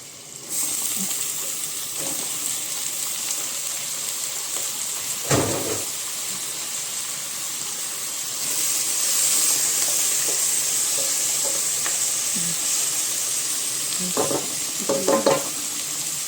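Meat frying in a pan, a continuous close sizzle that swells partway through, broken by a few scraping stirs and clanks of a utensil, with no speech.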